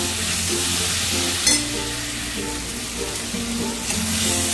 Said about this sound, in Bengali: আলুটা দিয়ে মাত্র কয়েক সেকেন্ড একটু আমি নাড়াচাড়া করে নিলাম